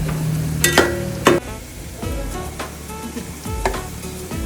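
Onions fry in an uruli pan with a continuous crackling sizzle, punctuated by several sharp scraping and clanking hits of a utensil against the metal.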